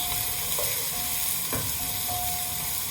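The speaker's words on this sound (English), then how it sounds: "Give it a stir. Rub the oil all over the onions" Onions fry in hot oil for a beef curry while being stirred, a steady close sizzle with occasional scraping and clinking of the spoon against the pan, and no voices.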